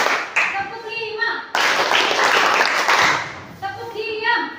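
In a classroom, a group of children claps along to a counting chant led by the teacher, with bursts of brisk hand claps alternating with sung chant lines.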